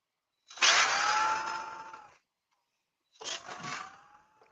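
A power drill whirs in two short bursts while woodturning a bowl, a long run and then a brief one, close and fairly loud with silence between.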